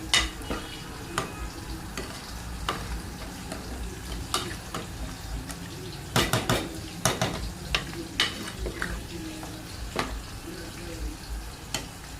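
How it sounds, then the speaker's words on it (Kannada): Mutton curry is stirred in a pot, with irregular spoon scrapes and knocks standing out over a soft, continuous sizzle at close range. "ಅದಕ್ಕೆ ನಾನು ಮಧ್ಯ ಮಧ್ಯೆ ಹಾಗೆ ತಿರ್ಸ್ಕೊತದೀನಿ"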